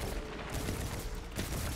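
Rapid automatic weapon fire in the video game Destiny 2, a dense continuous burst of shots filling the clip at steady loudness, with sharper spikes near the end.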